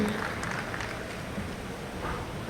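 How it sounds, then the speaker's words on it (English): An audience at a Mumbai textile technology and engineering show claps through a student fashion showcase, a continuous dense, moderately loud wash of applause with faint cheering and background music. "Keep the claps coming, audience"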